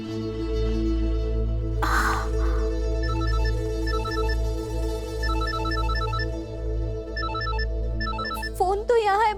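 A landline telephone bell rings in repeated short bursts of trilling tones inside a home, set over a steady background music bed, with a brief clatter midway and a voice rising at the end.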